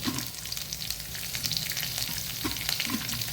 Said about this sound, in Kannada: ಇಷ್ಟನ್ನು ಹಾಕಿ ಕರಿ ಲೀವ್ಸನ್ನು ಹಾಕ್ಕೊಂಡು ಒಂದು ಒಗ್ಗರಣೆ ಟೈಪಲ್ಲಿ ರೆಡಿ ಮಾಡಿಟ್ಕೊಳ್ಳೋಣ